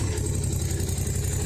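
Bobcat 642B skid steer loader engine idles with a steady low diesel rumble, close and continuous for a brief moment with no talk.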